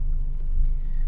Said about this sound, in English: There is a sports exhaust going on, but not what you can hear as we just pootle around at low speed coming out of this car park